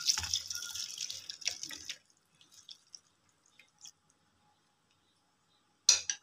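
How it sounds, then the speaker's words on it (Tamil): Water pours and splashes through a strainer as cooked food is drained for sambar, for about two seconds, then a few scattered drips and light clinks follow, ending with one brief clatter. "ஒரு வடிகட்டு தண்ணி வடிகட்டணும்."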